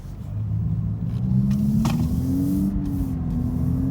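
Engine of a 2018 Lexus IS300 four-cylinder with active sound control turned up, a steady low rumble that rises smoothly in pitch as it revs, close and continuous with no talking.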